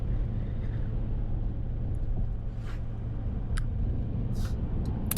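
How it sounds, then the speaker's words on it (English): Steady road traffic rumbles along a coastal highway near Lincoln City, Oregon, beside a tidal flat, a continuous low engine drone with brief whooshes of vehicles passing close by. "I was really surprised with all the traffic"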